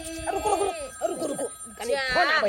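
A mobile phone rings with a looping electronic ringtone, its bright tones rising and falling. Voices talk over the ringing throughout.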